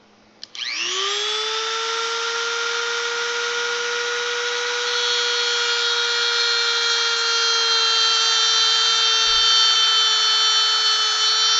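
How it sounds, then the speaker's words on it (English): A cordless power drill backing screws out of wood plugs, a steady high motor whine that spins up sharply and holds for about ten seconds alone. "I need the screws back out of these so I can get them cut."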